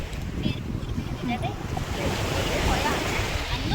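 Sea waves wash continuously along a beach where a family plays in the water, a steady close surf roar mixed with wind buffeting, with people talking over it.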